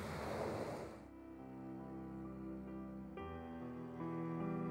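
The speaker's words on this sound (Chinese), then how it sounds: "望著眼前無邊無際的大海" Sea waves rolling onto the beach at Cheung Chau, a strong wash of surf at the start that soon sinks beneath steady sustained music.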